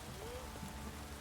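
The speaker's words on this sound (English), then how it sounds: "Looks like rain." Rainfall in the video game The Witcher 3: Wild Hunt, a soft, even hiss of falling rain heard at low level throughout a brief moment, with a faint rising tone passing over it.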